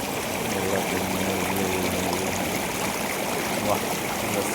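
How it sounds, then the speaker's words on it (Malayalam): A small stream trickles and splashes over rocks in a steady, continuous wash of water, close and fairly loud throughout with no voices. "ചെറിയ അരുവികൾ ഇങ്ങനെ പതുക്കെ പതുക്കെ ഒഴുകുന്ന കാണാൻ നല്ല രസമല്ലേ"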